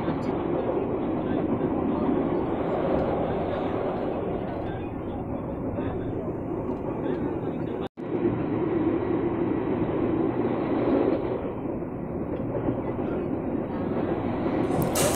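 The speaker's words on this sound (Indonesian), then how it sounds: "Kemudian kereta berangkat lagi dari stasiun Parung Panjang menuju stasiun berikutnya," A KRL commuter train pulls out of Parung Panjang station with a steady, loud rolling rumble that carries through the whole stretch, broken only by a brief dropout partway through.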